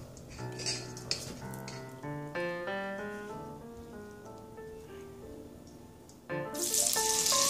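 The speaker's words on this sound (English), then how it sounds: "And make sure you hear that sizzle" Cornbread batter poured into a hot pan gives a bright, hissing sizzle that swells up loudly in the final second, following a stretch of melodic music.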